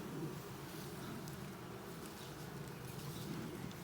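Bees buzz in a soft, continuous hum during a beehive inspection with smoke, a faint, steady swarm drone with no voices over it.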